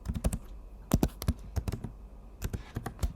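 Someone types a passphrase on a computer keyboard, the close, crisp keystrokes coming in quick bursts separated by short pauses, with no voices.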